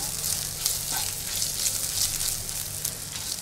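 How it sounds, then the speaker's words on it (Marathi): Finely chopped ginger and garlic frying in butter, a steady, close, even sizzle that runs without a break and carries a soft crackle throughout. "त्यामध्ये आता मी थोडं बारीक चिरलेलं आलं घालते."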